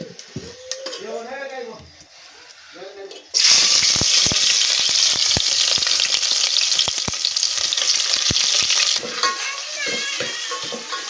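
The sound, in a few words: tempering (talimpu) frying in a pan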